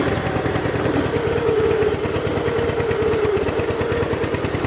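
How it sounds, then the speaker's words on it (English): A rough, old tractor engine chugs steadily and loudly with an uneven rhythmic putter, running alone throughout. "Use the most untested tractor I have"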